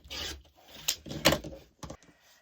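Quilt fabric squares being cut in half, heard as a few short rasping, scraping strokes close by in an otherwise quiet room.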